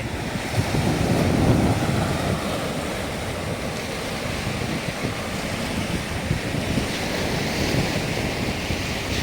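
Sea waves at a harbour seaside in Israel: a continuous, broad wash of surf mixed with heavy wind rumble against the microphone, steady and fairly loud throughout, with no voices.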